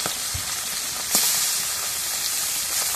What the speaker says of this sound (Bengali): এখন মাছগুলো দিয়ে দিই।